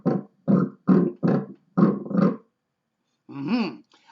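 A bear growl sound effect: six short, rough grunting bursts in quick rhythm, then a pause and a longer, higher growl, all loud and close with no talking.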